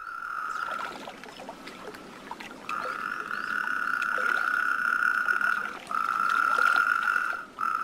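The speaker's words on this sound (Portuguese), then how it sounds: "o sapo corredor, entre outros sapos, comece a coachar." Natterjack toads and other toads croak in long, loud sustained trills, with one steady chorus rolling on through a brief pause and starting again, a fainter call underneath. Winter in wild Iberia, no voices.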